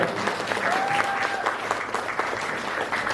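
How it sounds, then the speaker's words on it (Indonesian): Steady applause from an audience at an Indonesian reproductive-health dialogue event, honouring a woman provincial legislator from Batam, sustained and dense throughout, with a faint tonal squeal passing through midway. "Tepuk tangan dulu"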